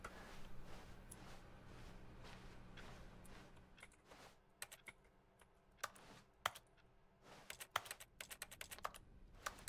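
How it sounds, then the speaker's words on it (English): Clicks in the video game The Stanley Parable produce computer keyboard typing sounds, heard as quiet, irregular key taps that grow sharper and more frequent in the second half. "I like that if I click anywhere, it sounds like I'm on a keyboard."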